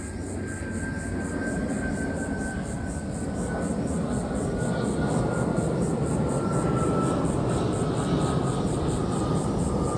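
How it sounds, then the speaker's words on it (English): Airplane passing overhead, a steady broad engine roar that holds loud and constant throughout with a faint high tone, no talking. "hold on, another airplane."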